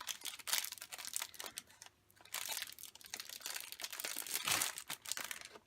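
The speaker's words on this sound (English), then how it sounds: "I'm going to crumple up the bag, wrap my twine around it" A paper treat bag being crumpled by hand, loud close crinkling in irregular bursts with a brief pause in the middle, no talk.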